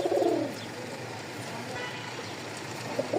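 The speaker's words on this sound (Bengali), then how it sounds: "এই হচ্ছে 2 জোড়া কবুতর" Two pairs of pigeons, one pair jet black and one pure white, coo softly up close, with short throaty calls at the start and end over a low background hum.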